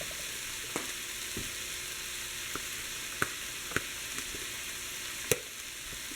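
Ground meat seasoned with garlic powder and onion powder browning in a pan, a low steady sizzle with scattered sharp clicks and taps from a utensil against the pan, no voices.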